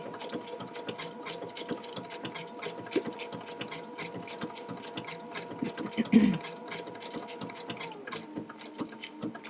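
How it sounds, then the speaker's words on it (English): A sewing machine runs a pin stitch along lace that has already been zigzagged in place, giving a steady, close mechanical whir with rapid rhythmic needle clatter that continues throughout, with no talking. "And you'll start sewing."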